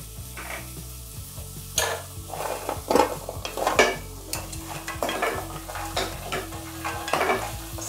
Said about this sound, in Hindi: अब इसमें मैं डालूँगी अपने गट्टे जो मैं फ्राई कर कर रखी थी